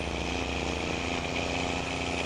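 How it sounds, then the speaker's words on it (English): A truck engine in Farming Simulator 19 runs steadily with a dense, continuous drone that stays at a constant loud level throughout, with no speech. "this truck just sounds nice"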